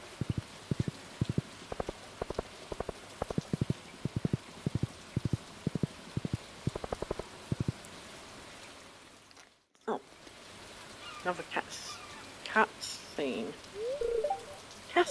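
Steady rain hissing in Stardew Valley, with a run of regular clip-clop footstep taps early on, a brief dropout midway, then game chimes and a voice speaking over the rain.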